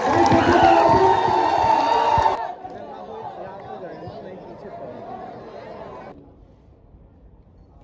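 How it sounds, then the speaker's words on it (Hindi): Crowd at a political rally for Chandra Shekhar Azad cheering and clapping loudly, a dense roar for the first two seconds that then drops to a lower, steady crowd murmur before fading further. "हम सबके महबूब नेता भाई चंद्रशेखर आजाद जी का जोरदार तालियों के साथ स्वागत कीजिए।"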